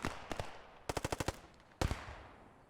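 Gunfire in the Post Scriptum video game comes as sharp, fairly distant shots. A couple of early reports are followed by a rapid automatic burst of about seven rounds, then a final loud shot with a short decaying echo.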